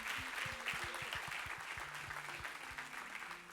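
A church congregation applauds, steady rhythmic clapping at a fairly quiet, distant level with a faint tone in the background.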